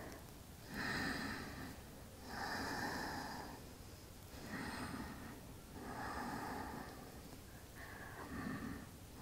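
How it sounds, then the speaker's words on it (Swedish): Slow, calm breathing during a yoga session for runners: about five long, steady breaths in and out, close and soft, with no talking. "Lugna andetag."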